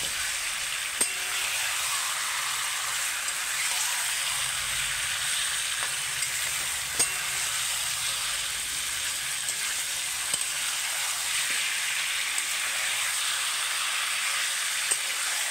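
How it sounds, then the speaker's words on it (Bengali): Chicken pieces frying in a pan over a village-style fire, sizzling steadily with periodic scrapes and knocks of a spoon stirring the meat, a continuous hiss throughout. "আগে একটু নেড়ে নিই মাংসটা।"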